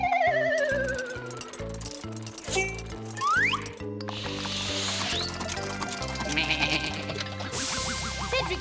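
Several sheep bleat in turn over a bouncy musical backing in a children's cartoon, their wavering cries rising and falling, fairly close and clear.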